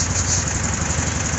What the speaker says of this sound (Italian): Senti come gira al minimo, perfetta, come una macchina moderna.